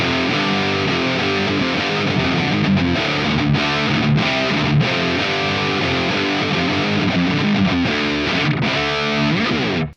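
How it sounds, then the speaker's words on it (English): Electric guitar through the dirty channel of an amp, a thick distorted tone playing dense, continuous riffs and chords up close for the whole stretch, stopping abruptly at the end. "let's hear the dirty channel."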